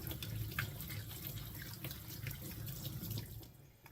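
Running tap water rinses red and orange sweet peppers, a close, steady splashing gush at a kitchen sink that fades slightly at the end, with no speech.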